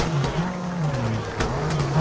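Rally car engine in WRC 3 on a snowy Swedish stage droning steadily through a handbrake turn, pitch dipping and rising as revs change, with faint tire scrub, loud and continuous.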